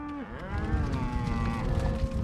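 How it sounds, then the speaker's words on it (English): Cattle low and moo in a long, rising, drawn-out call over a steady rumble, close and loud, on a cattle drive at Dryhead Ranch in remote south central Montana. "Driving cattle at Dryhead Ranch in south central Montana."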